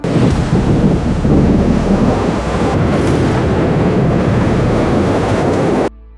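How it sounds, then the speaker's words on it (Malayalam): Heavy thunderstorm sound effect with thunder and rain, a loud, dense rumbling roar that holds steadily for about six seconds, then cuts off abruptly. "ശക്തമായ ഇടിയും മിന്നലും കൂടാതെ മഴ വർഷിക്കാനും തുടങ്ങിയിരിക്കുന്നു."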